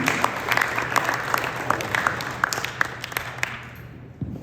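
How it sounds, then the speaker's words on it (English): An audience at an end-of-year school sports banquet claps for the parents in a warm, continuous round of applause from a crowded room. The applause fades out over the last second. "Let's give them a round of applause."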